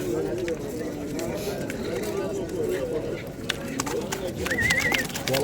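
Pigeons coo softly amid a busy bird market in Adana, Turkey, with people talking over them and occasional clatter nearby.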